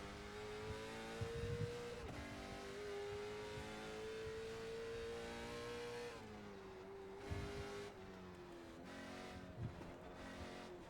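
Race car engine in the iRacing sim racing game, revving steadily with rising and falling pitch through shifts and corners, a continuous close drone with occasional brief tire squeal.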